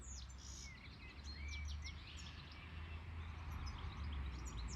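Birds call and chirp outdoors in a summer nature setting, several short tweets and whistled notes scattered over a steady low rumble of background noise, moderately distant, with no talking.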